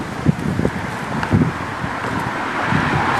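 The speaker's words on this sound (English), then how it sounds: "Damn, it's a windy day." Gusty wind on a windy outdoor day buffets the microphone, a rough rushing roar with brief bumps and swells, steady throughout and no speech.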